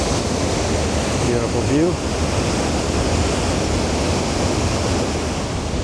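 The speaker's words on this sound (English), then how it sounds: "There's the actual falls themselves." Waterfall on a river in Ottawa, a loud steady broadband roar of falling water heard from nearby, with a brief spoken remark over it.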